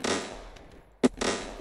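A Colt Commander pistol fires in a video game: a loud burst, a sharp single crack, then another burst, close and punchy with quiet gaps between.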